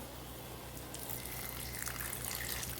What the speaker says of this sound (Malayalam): ഇനി കുറച്ച് തിളച്ച വെള്ളം ഒഴിച്ചു കൊടുക്കാം